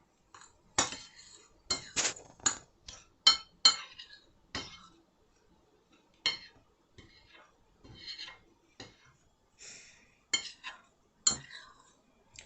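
Dry ingredients and salt being mixed in a bowl with a utensil, a series of crisp clinks and scrapes in irregular bursts, close and fairly quiet.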